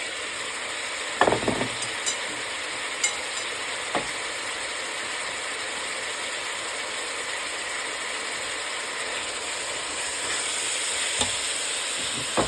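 Bitter melon (ampalaya) stir-frying in a pan for a Chinese-style dish, a steady sizzle running throughout with a few sharp clicks and scrapes of stirring, no voices.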